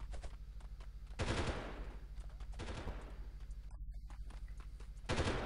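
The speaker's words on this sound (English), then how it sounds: "Where are these guys shooting?" Video game gunfire in Delta Force, an Uzbekistan mission, sounds as rapid automatic bursts and crackling volleys, fairly faint and continuous with a brief gap near the end.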